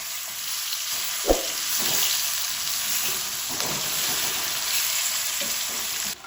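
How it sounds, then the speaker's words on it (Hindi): Bitter gourd frying on high heat in a brass kadhai, a dense steady sizzle and crackle, with a single knock early on and a few soft stirring scrapes, close and continuous with no talk. "ये कढ़ाई पीतल की है। अब तेज़ आंच पे हमने इनको फ्राई करना है।"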